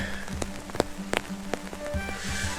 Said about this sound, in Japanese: まだポツポツと雨音が聞こえるから